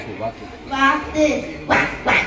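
A student's voice imitates a duck, giving several nasal quacks in short bursts, close and clear, with breaths between calls.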